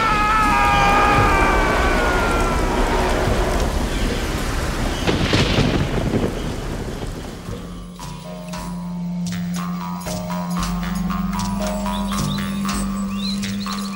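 Storm sound effect of thunder and rain: heavy rumbling roar and downpour fill the opening seconds, easing into a steadier hiss of rain with a low sustained drone and scattered sharper crackles.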